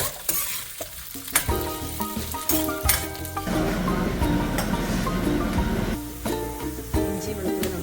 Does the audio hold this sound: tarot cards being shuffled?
no